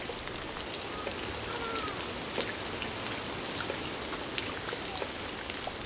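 Steady rain falls in Ethiopia, a dense, even patter of drops on surfaces that stays continuous and fairly close with no voices.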